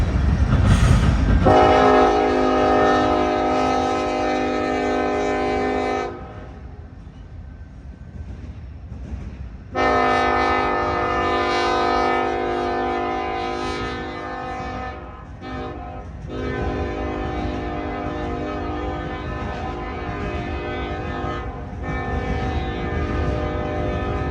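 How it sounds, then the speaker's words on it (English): A southbound Norfolk Southern freight train passes close by, its horn blaring in long loud blasts with a short break between them, over a steady rumble of rolling cars. "a southbound Norfolk Southern was just itching to make its appearance"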